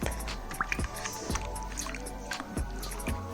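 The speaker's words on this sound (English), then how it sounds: "I am going to use a bowl of clean cold water, and I'm just going to clean this up." A used acrylic paint bottle, scraped clean, is rinsed by hand in a bowl of clean cold water, making close, soft sloshing, squishy splashes and light drips over a low steady background.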